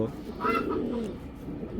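Pigeons, a male and female pair, coo softly in a low, rolling murmur, close by, partly under a man's speech.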